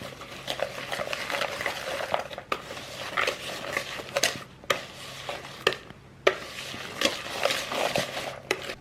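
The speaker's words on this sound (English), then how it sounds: "Alright, now I'm gonna whisk it." Pecan tart filling whisked in a bowl, brisk rhythmic clattering and scraping of the whisk against the sides, close and steady with a few brief pauses, no voices.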